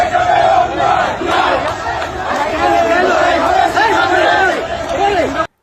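A political procession crowd on the street chants loudly in unison, many voices rising and falling in repeated rhythmic shouts, close and continuous, then cutting off abruptly at the end.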